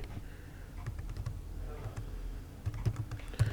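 Rapid key presses on a computer keyboard as a form name is typed during a Visual Basic lesson, an uneven run of light clicks close by with no talk.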